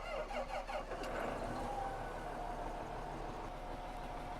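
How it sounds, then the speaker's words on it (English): A John Deere 8530 tractor engine in Farming Simulator 2015 runs steadily, a droning motor hum with a brief squeal near the start, heard alone with no talking. "I'm going to jump into this tractor and I'm just going to let you listen to how it sounds"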